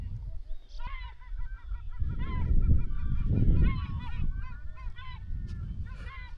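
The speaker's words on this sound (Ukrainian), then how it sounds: "деякі чайки видають такі звуки, ніби дуже-дуже голосно сміються з нас" Gulls cry over and over on the Dnieper, their harsh, laughing calls overlapping against a steady low rumble of wind and water.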